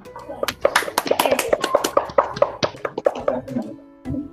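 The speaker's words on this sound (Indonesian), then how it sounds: "Sebelumnya kita tepuk tangan dulu" A class of children claps in a quick, steady rhythm, many hands together at close range, with children's voices mixed into the clapping.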